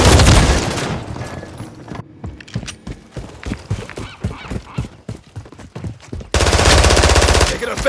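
Call of Duty MW3 online match gunfire: bursts of rapid automatic shots, loud bursts at the start and end with quicker scattered shots and game effects between.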